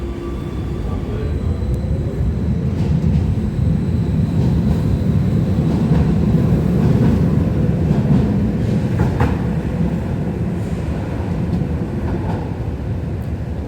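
A Tyne and Wear Metro train rumbles loudly at Bede station, a continuous low roar of wheels and motors holding steady throughout.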